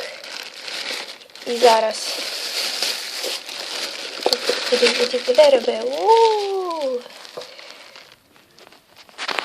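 A plastic bag of Rainbow Loom rubber-band crafts crinkles and rustles close by for several seconds while a person speaks and a higher, sliding voice-like sound rises and falls.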